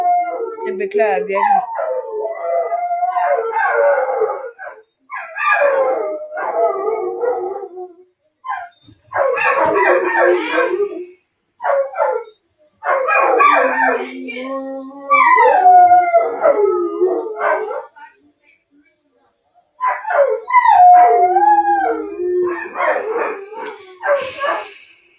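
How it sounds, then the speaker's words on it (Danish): A pet dog howls loudly and persistently at close range during an agar.io gaming session, giving long wavering howls mixed with whimpers and barks in repeated bursts separated by short pauses. "Undskyld min hund gør,"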